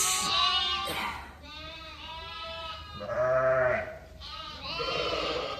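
Sheep in a crowded lambing barn bleat one after another, with several wavering calls, some high and some deeper, overlapping close by and continuing throughout.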